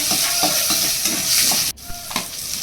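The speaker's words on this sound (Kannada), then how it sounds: "ಬಾಣಲೆಗೆ ಶುಂಠಿ ಬೆಳ್ಳುಳ್ಳಿ ಹಾಕ್ಕೊಂಡು ಅದನ್ನು ಕೂಡ ಫ್ರೈ ಮಾಡ್ಕೊತಾ ಇದ್ದೀನಿ" Ginger and garlic fry in a pan with a bright, steady sizzle and repeated stirring scrapes, close and loud, briefly dipping near the end before resuming.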